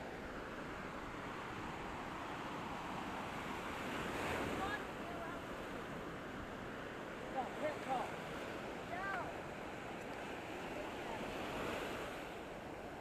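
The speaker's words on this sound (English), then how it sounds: "let you hear the surf for a little bit." Ocean surf rolls onto the beach at Panama City Beach, Florida, a continuous broad wash of breaking waves with wind rumble, swelling slightly midway; a few faint distant voices or birds surface briefly.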